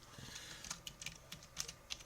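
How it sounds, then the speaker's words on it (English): Typing on a computer keyboard, a short run of light, irregular key taps, close but quiet, with no voices. "we'll actually type it up here"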